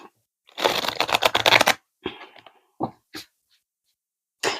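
A tarot card deck is riffled in a quick crisp burst of flutters, then a few short separate card slaps and taps follow amid quiet.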